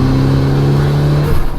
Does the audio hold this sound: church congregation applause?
no